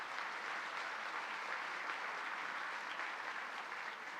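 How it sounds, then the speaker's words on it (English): Dense, steady applause from a large audience at a memorial event in New York City, a continuous wash of many hands clapping at even volume for several seconds with no talking. "Let's give her a round of applause."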